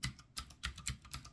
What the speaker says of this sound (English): See, I just typed it in, drive.google.com.